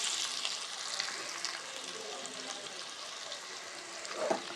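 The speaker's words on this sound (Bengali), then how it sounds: "একই তেলে আমরা আলুগুলোকেও লাল লাল করে ভেজে তুলে নেব।" Potatoes rubbed with salt and turmeric frying in oil, a steady broadband sizzle filling the whole stretch at moderate level, with a slight rise in crackle near the end and no voices.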